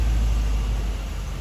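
Low, steady exhaust rumble of an idling 1953 Chevrolet Bel Air fitted with quiet mufflers, muted and even, recorded up close with no talking.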